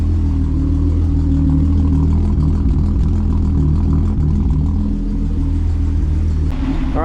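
A Volkswagen engine idles steadily while warming up, a loud, constant low rumble close by with no other sounds.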